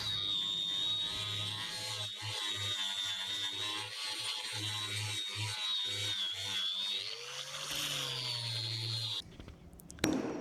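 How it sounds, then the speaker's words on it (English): An old flap disc on an angle grinder strips paint from wooden shutters, a steady high whine with a low motor hum that dips and bites as it loads against the wood, then cuts off near the end with a brief clatter. "I'll first strip away the paint quickly with an old flap disc"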